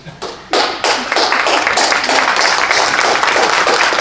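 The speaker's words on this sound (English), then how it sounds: "That deserves a round of applause" Audience applause at a community talk in Richmond about pipelines and progress breaks out after a few scattered claps and swells into a loud, dense, sustained roar of many hands.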